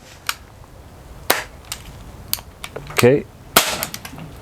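A Gamo gas pistol fires steel BBs in several sharp, crisp pops spaced unevenly, close by, with handling clicks between shots and a brief spoken word.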